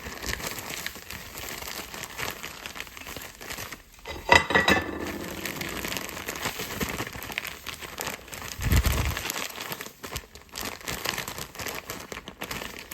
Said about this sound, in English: Close our bag and then just start sifting it throughout.